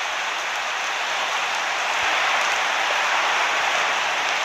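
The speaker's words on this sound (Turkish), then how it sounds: "Yağmur yağmaya başladı" Steady rain hisses down at an outdoor picnic, a dense, even patter on surfaces that stays loud and continuous throughout with no voices.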